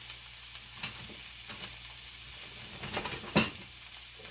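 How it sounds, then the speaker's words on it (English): Half a chopped onion cooking in a pan gives a low, steady sizzle with occasional stirring scrapes, including one brief sharper clatter, continuing without any talk. "And then a half of a chopped onion. I'm going to cook this for a few minutes"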